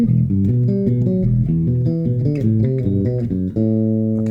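Bass guitar plays the opening two-bar section of the riff from a thrash metal song, a fast, steady run of picked low notes at close range with no talking.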